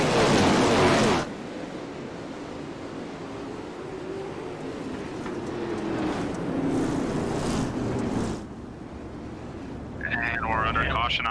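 410 sprint cars idle under a caution period at Cedar Lake, a steady low rumble of many engines holding throughout, with voices talking over it near the start and end.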